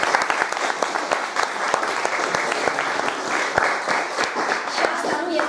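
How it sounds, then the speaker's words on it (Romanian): Dense, steady applause from an audience at a success-stories meeting with a guest speaker, many hands clapping together loudly and continuously with no voices over it. "Haideți să-l aplaudăm."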